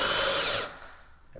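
A power drill bores through wood, its high whirring whine loud and close for a moment before cutting out and fading into quiet.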